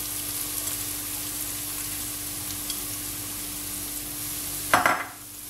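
Carrot and onion frying in a pan give a steady soft sizzle throughout, with a single louder scrape of stirring near the end before the hiss settles back down.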